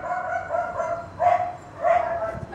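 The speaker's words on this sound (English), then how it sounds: "I've been listening to barking since 6 o'clock this morning." Neighbors' dogs bark in two bursts heard from a distance, with a steady background hum between them.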